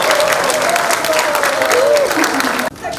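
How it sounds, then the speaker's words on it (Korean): Applause from an audience at a school football team fundraising bazaar in Suwon, steady clapping that cuts off abruptly near the end, with a faint voice underneath. "김지성 의장님께 다시 한번 박수."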